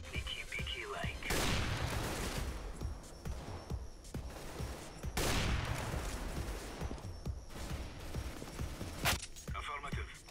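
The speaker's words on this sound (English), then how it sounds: "Saw an enemy there, so I was just shooting." Rapid gunfire from the game CS:GO on the Nuke map, with several loud, dense bursts of shots and booms fired close up, separated by brief pauses.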